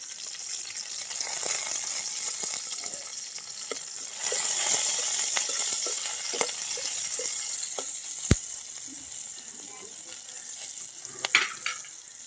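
Curry leaves and cumin sizzle and crackle steadily in hot oil in a pan, a continuous close frying hiss with occasional sharp pops and a few clinks of a spoon.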